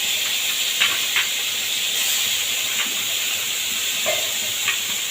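Small shrimp coated in salt and turmeric fry in a pan, giving a loud, close, continuous sizzle and hiss with occasional faint stirring clicks.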